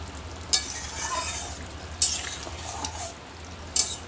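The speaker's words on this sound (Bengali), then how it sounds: "নেড়ে দিলাম।" A spoon stirs a Bengali-style mutton curry in a pan, with a continuous sizzle and bubbling broken by three sharp metallic clinks of the spoon against the pan, close and clear with no talk.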